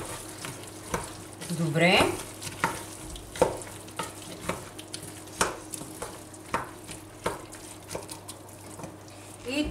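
Vegetables for a vegan moussaka sizzle in a pan while a spoon stirs and scrapes them in a steady rhythm of close clinks, with a brief squeaky scrape and a short spoken word.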